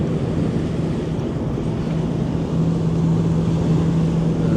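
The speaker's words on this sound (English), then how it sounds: "Really using that side thruster there." A ship maneuvering at a dock with its side thruster, a loud steady low rumble and drone with wind and water noise, no talk.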